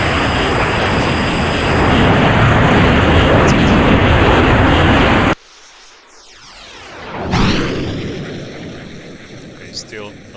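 An F-14B Tomcat jet in the Falcon BMS flight simulator roars with dense broadband engine noise, then cuts to a quieter pass where a fly-by swoops through with a rising and falling whoosh.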